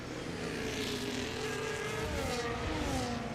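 Formula 1 race cars at the Emilia-Romagna Grand Prix in an F1 video game produce a continuous high-pitched engine whine. The pitch shifts as cars pass along the straight, loud and steady with no talking.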